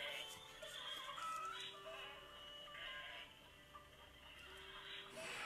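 A horse neigh played from the sound button of a children's farm animal sounds book, a faint, thin electronic whinny repeating amid a busy jumble of other tinny farm-animal sounds from the toy speaker.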